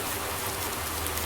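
Steady rain falls in a Roblox farm role-play game, a continuous hiss of drops on surfaces heard alone for a brief moment.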